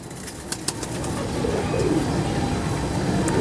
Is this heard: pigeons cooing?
yes